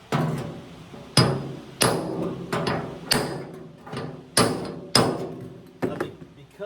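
A hammer forms a sheet metal flange on a T-bucket cowl, striking about eight sharp, ringing blows in an uneven, steady rhythm, close and loud.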